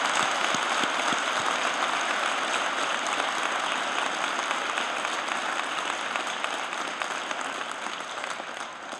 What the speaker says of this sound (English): Let's give him a round of applause and support.